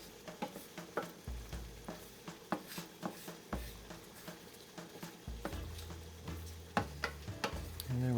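Utensil stirring a sauce in a pan after pepper is added, soft repeated scraping and ticking taps over a faint sizzle, close and quiet, with low hum in the background.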